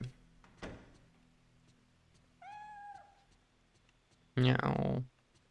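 A cat in the Fatal Frame 3 video game gives one clear, drawn-out meow in the middle, framed by brief clicks and a louder burst near the end, over a quiet low hum.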